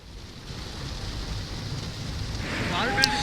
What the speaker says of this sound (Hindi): इतना हैवी यहाँ पर रेनफॉल हो रहा है कि हम गाड़ी ड्राइव नहीं कर पा रहे हैं।